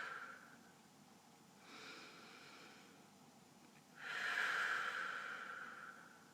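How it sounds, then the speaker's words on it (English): Deep breaths taken during a meditation session: two slow, airy exhalations, a soft one near the start and a louder, longer one about two-thirds through, alone in a quiet room. "And because I've been talking, I'm going to take a few deep breaths."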